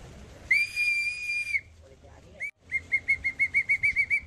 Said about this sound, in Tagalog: So, try natin tong sipol kung gumagana.